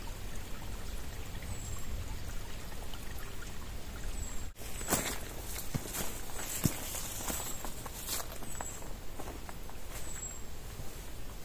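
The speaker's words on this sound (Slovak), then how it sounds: "Ja som došiel dneska až na to miesto, kde ten potôčik horský pekne vyviera" A small mountain stream welling up from its spring, a steady close trickle and babble of water running throughout, with a few scattered footsteps or splashes over it.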